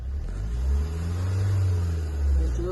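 A car engine revs on a Konkan trip near Aravi Beach, a loud low rumble that swells twice in broad surges, close by and alone.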